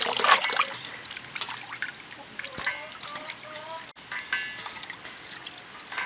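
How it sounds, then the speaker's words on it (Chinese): Bean sprouts are washed by hand in a basin of water in a home kitchen, with close splashing, swishing and dripping that go on throughout. A voice seems to be heard faintly at times under the water sounds. "豆芽洗一下"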